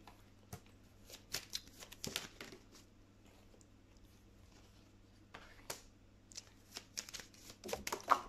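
A deck of tarot cards is shuffled quietly nearby in soft, irregular riffling bursts with brief pauses between them.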